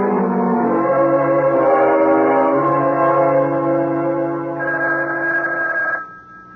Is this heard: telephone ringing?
yes